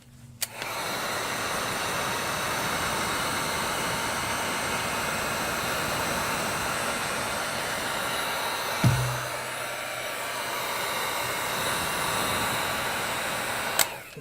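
A heat gun warms an iPad 9th-generation screen for a repair, giving a constant loud whooshing blower roar that runs nearly unbroken for over thirteen seconds, with a click at switch-on and switch-off and a brief knock midway.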